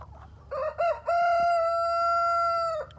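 A rooster crows loudly and close beside a compost pile, a long drawn-out cock-a-doodle-doo that rises and holds before trailing off.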